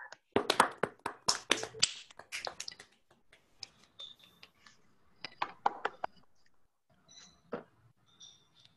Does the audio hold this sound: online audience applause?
yes